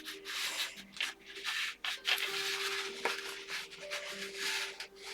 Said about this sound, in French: j'arrive pas à visser ce truc